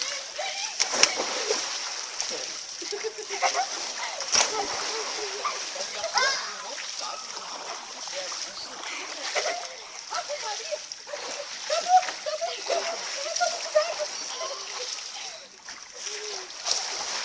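Water splashes continuously and close by as people swim in a stream, irregular sloshes and splatters running throughout while children and adults talk over them.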